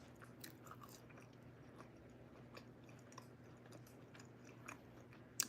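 Fries are chewed in a quiet mouth close to the microphone, a faint, steady mashing with a few soft crunchy bites scattered through.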